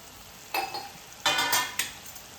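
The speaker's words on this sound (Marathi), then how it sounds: "झाकण काढून बघणार आहे" A lid is lifted off a cooking pot of white onion masala. A short metallic clink is followed by a brighter clatter and scrape of the lid, fairly quiet and close, with no voices.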